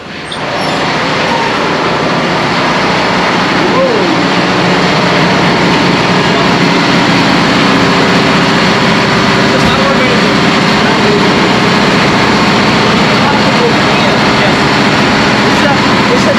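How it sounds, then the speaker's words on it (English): A diesel generator runs steadily in the engine room of a platform supply vessel at sea, a loud, unbroken low mechanical drone filling the space throughout while faint voices talk underneath. "Now it's running only one generator."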